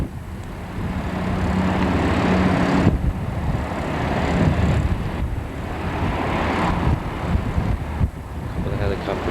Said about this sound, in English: A couple of helicopters flying away.